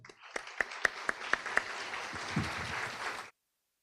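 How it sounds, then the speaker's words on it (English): Audience at a teachers' graduate reunion event applauding, a few loud individual claps leading into a short, moderate burst of crowd clapping that stops abruptly. "So can we just give him a round of applause"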